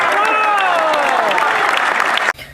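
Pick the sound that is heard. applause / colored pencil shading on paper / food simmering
applause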